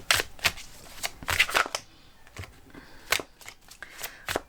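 Oracle cards being shuffled and drawn by hand, with quick bursts of riffling and slapping card sounds in irregular clusters, close and crisp, separated by brief quiet gaps.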